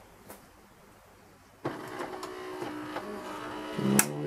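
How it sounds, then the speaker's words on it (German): An espresso machine, switched on for cleaning with grease-dissolving tablets, jumps from near quiet into a steady electric hum and buzz as it heats, with faint clicks and a brief louder whir near the end. "jetzt erhitzt sich die Maschine kurz"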